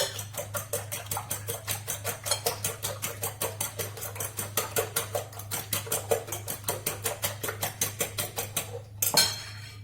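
Three eggs are beaten briskly in a bowl for a homemade yogurt sponge cake, the whisk clicking against the sides in a fast, even rhythm, close and loud, ending in a brief clatter.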